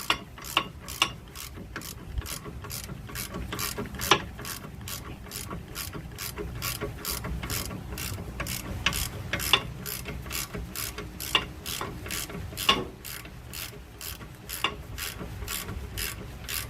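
Hand ratchet tightening an 18 mm bolt on a Nissan rear shock absorber during replacement, a quiet, steady series of clicking pawl strokes in a regular rhythm, close by with no talking.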